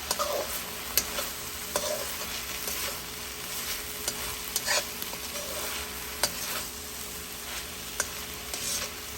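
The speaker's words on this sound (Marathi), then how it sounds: "आपण आता ही पुन्हा एकदा हलवून घेऊया" Spring onion greens bhaji sizzles in a hot pan while a spoon stirs it, giving a continuous frying hiss with scattered scraping clicks and taps.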